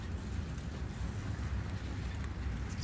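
Wind whips around a hot tent in a continuous loud rush with buffeting gusts and some flapping, heard from inside the shelter.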